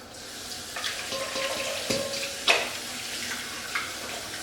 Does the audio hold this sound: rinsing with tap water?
yes